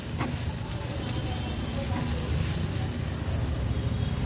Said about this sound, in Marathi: आता गॅसची फ्लेम मी मीडियम वर करून घेते आणि कांदा थोडासा परतून घेते।